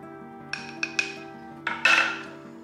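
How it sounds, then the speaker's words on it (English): A spoon clinks against a bowl or cup while stirring cocoa powder into a slurry with hot syrup, giving a few sharp, separate taps followed by a brief scraping swirl, close and fairly quiet. "I am going to make a little slurry out of this before I add it to the syrup."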